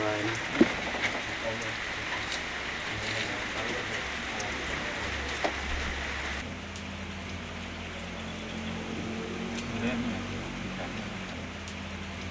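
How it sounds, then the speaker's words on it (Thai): Steady rain pours down in a village in Yala province, Thailand, a dense continuous hiss that eases slightly partway through, with a few faint distant voices underneath. "เมื่อฝนเริ่มเบาบางลง"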